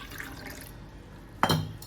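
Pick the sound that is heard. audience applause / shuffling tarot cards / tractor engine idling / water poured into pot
water poured into pot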